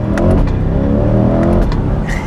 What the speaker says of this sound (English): leaving Buttonwillow Raceway back in the C8 Corvette